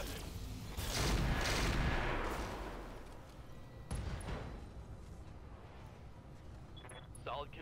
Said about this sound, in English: Firing all weapons.